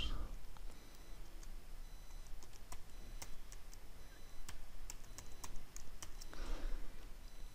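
Someone types a username and password on a computer keyboard: a string of crisp, scattered key clicks at close range over a steady faint hiss, with no talking.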